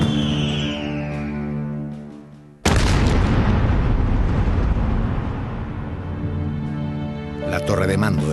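An explosion tears through the command tower of the ironclad Huáscar, hit by a shot during a naval battle in the War of the Pacific. A sudden loud blast cuts in after steady tonal music and rolls on as a long, dense roar.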